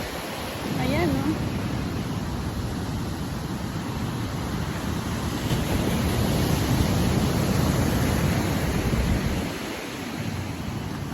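Gentle ocean waves wash onto a beach in a steady, broad rushing roar with some wind, constant and fairly loud throughout.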